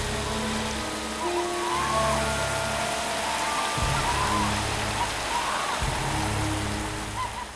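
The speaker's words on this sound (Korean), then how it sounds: "갑자기 웬 비가 이렇게 많이 와." A heavy downpour pounds steadily and densely, a constant broadband hiss of rain that does not let up; a low engine-like drone and faint tonal sounds sit underneath it.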